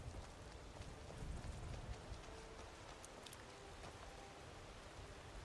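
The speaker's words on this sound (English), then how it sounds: "It's raining" Steady, even rain hisses through a modded Skyrim game world, a continuous dense patter with no pauses and no voices.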